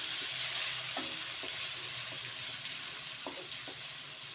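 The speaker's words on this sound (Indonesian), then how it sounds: "Kita tumis di api sedang." Minced shallots sizzle steadily in a hot pan over medium heat while a utensil scrapes and stirs, giving a few soft knocks over the constant crackle.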